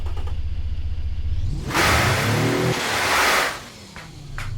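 In a driving video game, after a low idle, a car engine suddenly revs up into a loud, rasping roar, holds briefly, then eases back down.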